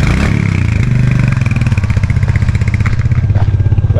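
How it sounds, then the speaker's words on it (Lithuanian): A new motorcycle's engine runs close by, a loud steady idle with a pulsing low throb and mechanical clatter that rises slightly as it is revved, alone without talk. "Su nauju motociklu."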